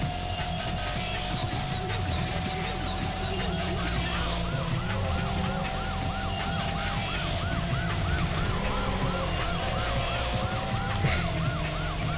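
A police car siren in Need for Speed: Porsche Unleashed wails in a rapid repeating yelp over a steady car engine drone, fairly loud and continuous.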